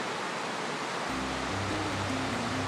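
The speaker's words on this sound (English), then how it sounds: "And then the creek." Creek water flows beside a camping area near Valdez, Alaska, a dense, steady rushing wash that fills the whole clip, with a low hum entering partway through.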